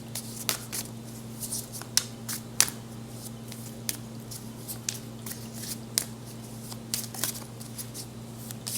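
Quiet, scattered papery snaps and riffles of tarot cards being shuffled, irregular bursts over a steady low hum, with no talking.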